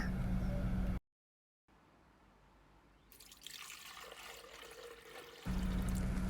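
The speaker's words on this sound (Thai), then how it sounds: "ใส่น้ำเปล่าลงไปก่อนนะคะ" Plain water poured into a blender for a Thai fingerroot (krachai) drink: a steady pouring wash that swells in the middle, set between louder background noise at either end.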